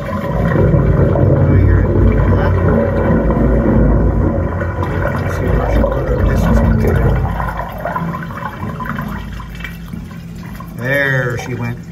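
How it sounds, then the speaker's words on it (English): Rushing, gurgling water from three toilets flushing into a home main drain line on a septic system, loud and continuous, with voices talking over it before the flow tapers off near the end. "I'm gonna go flush all three of the toilets inside."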